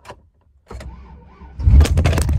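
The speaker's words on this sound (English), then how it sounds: "Let me turn on my goddamn truck." A pickup truck starts up nearby: a short starter crank, a pause, then the engine catches and settles into a loud rough idle.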